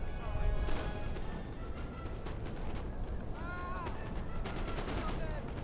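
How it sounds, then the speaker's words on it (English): Massed musket volleys crackle in Total War: Napoleon as French and British lines trade fire, dense overlapping pops and distant booms forming a continuous battle din, with someone talking over it. "So now they're just trading shots"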